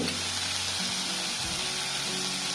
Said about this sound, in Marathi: धुवून घेतली मी उडदाची डाळ, ती टाकते फोडणीत